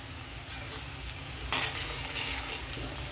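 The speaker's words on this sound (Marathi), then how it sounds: "हळद थोडीशी परतून घेऊन" Chopped onion and turmeric sauté in hot oil for a Maharashtrian brinjal dish, with a dense continuous sizzle and stirring that swells louder halfway through.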